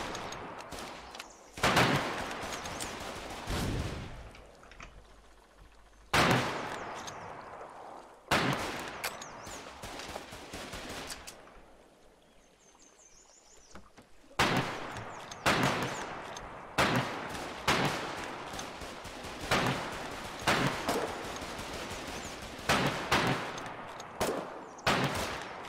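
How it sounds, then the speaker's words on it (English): Gunfire from the cliffs in a war setting: repeated bursts of loud shots and rapid automatic fire, some volleys close and sharp, others rolling with echo, broken by short lulls. "They are shooting from the cliffs."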